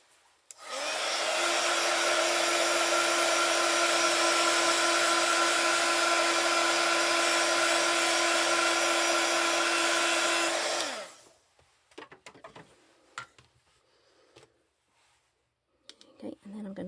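A hair dryer blows steadily on stamping ink on a rubber-stamped butterfly coaster, a loud constant whine for about ten seconds before switching off, followed by faint clicks and handling noises.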